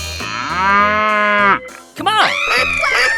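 In a 3D animal slide game, a cow lets out a long, loud, steady moo over bouncy background music, then a shorter wavering cry and a cheerful melodic jingle follow.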